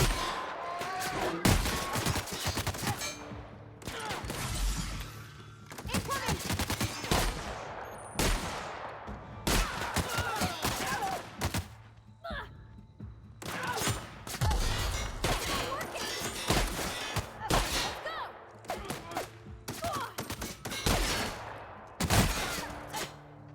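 Shotgun gunfire in the video game The Outer Worlds: loud, repeated blasts and bursts in quick volleys through the whole stretch, with brief gaps between clusters and no speech over them.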